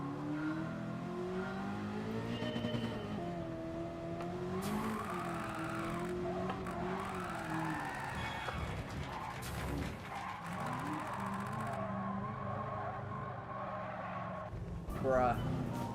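A race car in Gran Turismo 7 accelerates hard with swooping engine revs and bursts of tyre skidding, loud and close, while people talk over it throughout.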